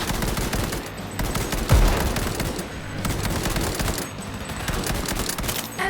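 Rapid gunfire from a gun in the video game Cyberpunk 2077: dense, continuous bursts of shots with a heavy boom near the two-second mark, loud and close throughout.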